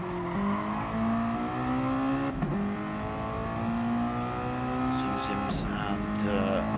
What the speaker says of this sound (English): Hard on the brakes then for this second hairpin.